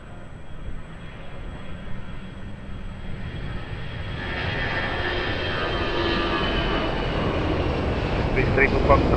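An airliner landing at Lisbon Airport roars steadily, swelling louder as it nears, with broadband jet noise and a rising whine, close and continuous over a background hum.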